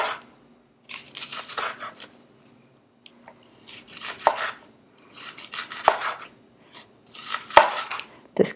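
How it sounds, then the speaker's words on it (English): A knife cuts vegetables on a board for a simple raw salad. Close, crisp chopping strokes come in rhythmic runs of several cuts, separated by short quiet pauses. "keep cutting for the salad"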